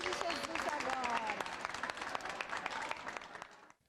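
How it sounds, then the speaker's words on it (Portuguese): Children at a Christian play activity clap together in a lively, brisk burst with excited young voices calling over it, close and fading out at the end. "Palmas para vocês que são amigos de Jesus agora."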